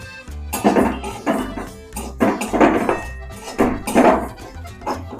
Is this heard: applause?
no